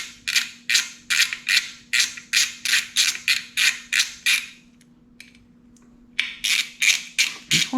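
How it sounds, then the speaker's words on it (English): A ratcheting hex key turns in rapid, evenly spaced clicking bursts, loud and close, removing 4mm hex fasteners from a finishing cover on a Triumph Scrambler 400 X motorcycle, with a short pause before the clicking resumes. "first thing we're going to do is remove these two fasteners. They're 4mm hex for this finishing cover."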